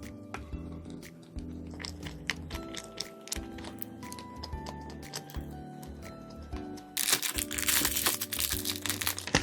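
Close, crisp bites and chewing of flaky apple pie pastry with a cinnamon apple jam filling, irregular crunches and mouth sounds, ending with a louder burst of crinkling.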